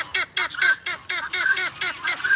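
A male fowl at an animal sanctuary gives a run of repeated honking calls, about eight close, loud bursts in a steady rhythm, each with a bright nasal tone and no talking over them.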